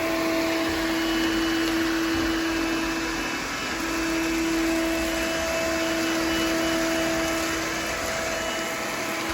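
A Coral One 2-in-1 robot vacuum cleaner runs loudly and steadily, a constant whirring motor hum with high whine, no voices.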